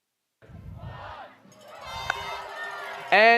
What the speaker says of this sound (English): Can we get a countdown from the crowd?